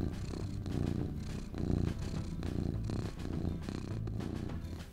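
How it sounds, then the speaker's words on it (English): A cat purrs close and steady, a low rhythmic rumble that swells and eases with each breath, with no talking. "It's the purring. The purring."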